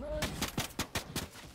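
Rapid bursts of gunfire in Fortnite, about eight sharp shots in an uneven rhythm over 1.6 seconds, fairly close and moderately loud, with game sounds underneath.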